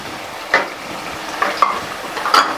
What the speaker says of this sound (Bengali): যতক্ষণ আমার আলু মূলো ভাজা হচ্ছে